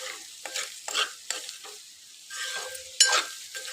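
A spoon stirs okra curry (bendakaya) in a hot pan, scraping in repeated sweeps over a soft frying sizzle, close and distinct with a sharp metallic knock near the end.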